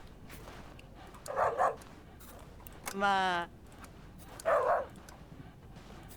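Dog in the video game Yes Your Grace, heard as two short yelping barks and one longer whimpering whine, moderately loud over quiet game ambience, with a brief voice in between.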